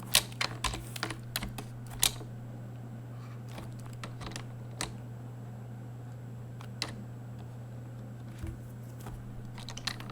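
Computer keyboard keys, including the arrow keys, click in scattered single presses and short bursts over a steady low electrical hum, some taps sharp and close, with long quiet gaps between.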